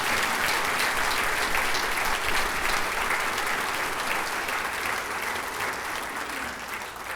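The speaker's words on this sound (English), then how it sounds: "Let's give them a round of applause." Sustained audience applause for a school district's safety team at a state-of-the-district event, a dense, steady wash of clapping from a large crowd that holds loud throughout and eases slightly at the end.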